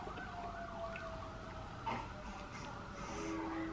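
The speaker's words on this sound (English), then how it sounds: "Listen to sirens. Right. Woo woo." A wailing siren rises and falls steadily in the distance, holding a long tone over a busy background hum.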